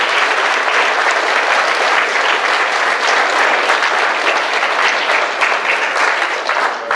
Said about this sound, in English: I would ask that you please join me in a round of applause for all the achievements we are about to recognize